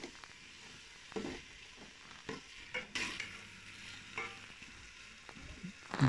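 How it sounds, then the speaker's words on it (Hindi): Masoor dal fries in ghee over a low flame, giving a soft continuous sizzle broken by several brief stirring scrapes, with no voices. "दाल को इसी में ये देखें फ्राई कर रहे हैं, घी साइडों से निकल आया"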